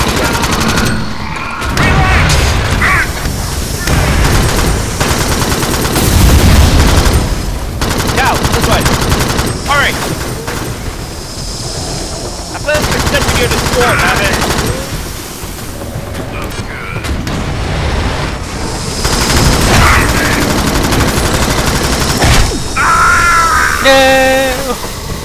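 Rapid bursts of automatic gunfire from the video game Alien Swarm rattle almost nonstop at a loud, close level, broken by heavier booming impacts and faint game voices.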